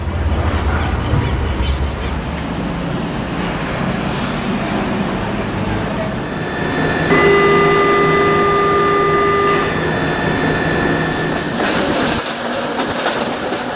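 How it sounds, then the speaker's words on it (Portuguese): A suburban train on the São Paulo Railway rumbles steadily along the rails, loud and continuous, with sustained metallic squeals and tones coming through midway and clattering wheel noise throughout. "Partimos em um trem de subúrbio."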